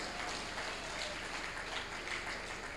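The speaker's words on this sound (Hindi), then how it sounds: "हाँ देखो, आप ताली बजा लो" Faint applause from the audience at a devotional discourse and bhajan gathering, a soft, diffuse patter of clapping heard at a distance for a few seconds.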